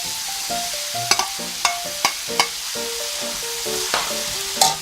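Bopis, a Filipino dish of chopped pork lung and heart, being stirred and sautéed in a pan, with steady sizzling frying broken by several sharp scraping and clinking spoon hits against the pan.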